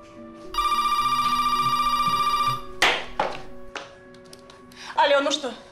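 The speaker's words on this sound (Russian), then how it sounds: "Сейчас Насте позвоню на мобильный." A mobile phone rings with a steady electronic tone for about two seconds, followed by a few knocks and handling clicks, then a brief voice near the end.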